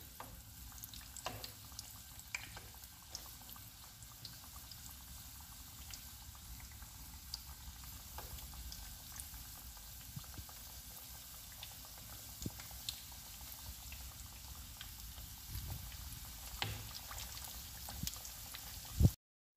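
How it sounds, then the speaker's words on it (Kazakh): Pizza deep-frying in hot oil, a steady, fairly quiet bubbling and crackling with scattered small pops and spatters continuing throughout, with occasional faint clinks of a utensil. "Міне пиццамызды саламыз майымызға."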